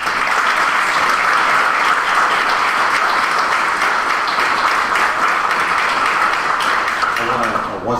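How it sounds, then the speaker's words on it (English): Sustained, loud applause from an audience at a college awards and recognition ceremony, steady clapping for award recipients that fills the whole stretch before tapering at the very end. "Let's have a round of applause for all of this year's recipients."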